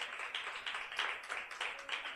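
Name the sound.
church congregation applauding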